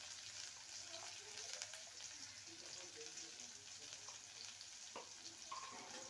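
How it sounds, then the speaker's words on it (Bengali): Bitter gourd pieces fry quietly in hot oil, a faint, even hiss with occasional soft pops and no talking. "উচ্ছেটাকে ভেজে নেব।"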